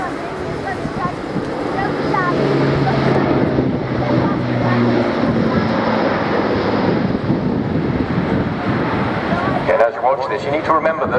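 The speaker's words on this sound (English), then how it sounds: "It's a 4 turboprop airlifter, 4 Europrop International TP400 engines." A four-turboprop airlifter powered by four Europrop TP400 engines flies during an air display, a steady loud engine roar and rumble that fills the clip while a commentator talks over it.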